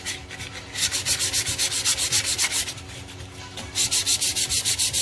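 Sandpaper rubs against a camphor laurel wooden cup spinning on a lathe, making a steady, close hiss with rapid rhythmic pulsing and a short easing of pressure midway.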